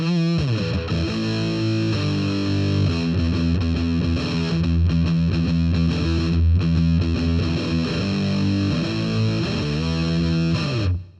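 Electric guitar driven through a fuzz pedal in a gritty garage rock style, chords ringing out loud, thick and saturated for about eleven seconds before cutting off, with no talking.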